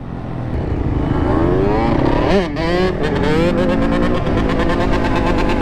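A two-stroke engine revs hard at a busy lot, loud and close, its pitch climbing and sweeping in repeated surges with a brief dip midway, voices faintly mixed in.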